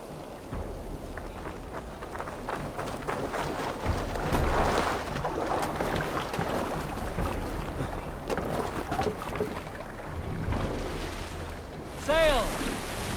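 Viking longship under sail on open sea in Assassin's Creed Valhalla, waves and wind washing against the hull with creaking and splashing throughout, voices of the crew heard over it and a brief chant near the end.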